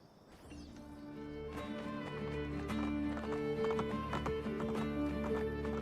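A horse in the game Assassin's Creed: Brotherhood gallops with steady, rapid hoofbeats and lets out a neigh over a sustained musical score, loud and close throughout.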